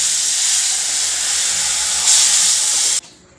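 Tamarind pulp poured into a hot cumin tempering sizzles with a loud, steady, close hiss that swells briefly near the end and then suddenly drops to a faint sputter.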